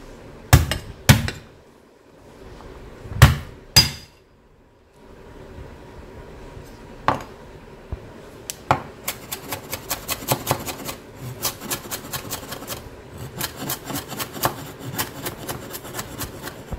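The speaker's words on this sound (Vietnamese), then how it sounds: "Hành tỏi các bạn sẽ đập dập và băm nhỏ ra cho mình." Shallots and garlic being crushed and then minced with a knife on a wooden board: a few heavy thumps, a short pause, then a rapid run of light, steady chopping taps, close and clear with no talk.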